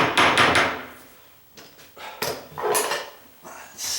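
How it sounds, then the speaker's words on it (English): A hammer taps metal on a self-closing door hinge pin: a quick cluster of sharp, close knocks, a pause, then a few more spaced strikes. "I'm going to tap my hammer on this."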